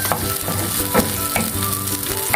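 Onions sizzle loudly in a hot pan while a pinakbet is being cooked. The frying is steady and crackling, with faint stirring scrapes running through it, and no voices.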